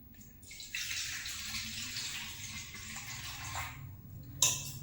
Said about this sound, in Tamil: ஃபஸ்ட்டு வந்து தண்ணி ஊற்றிக்குவோம்